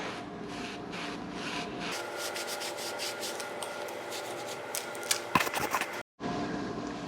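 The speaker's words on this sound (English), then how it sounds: "simply going to just wipe this area off" Close, soft rubbing strokes of a cloth wiping metal shavings off a mountain bike chainstay, repeated in a steady rhythm, fairly quiet and with a brief bump near the end.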